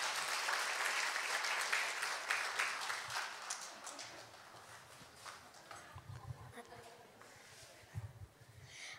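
Audience applause welcoming presenters at a church gathering, loud clapping at first that thins and fades over several seconds, followed by scattered claps and shuffling, with voices talking beneath.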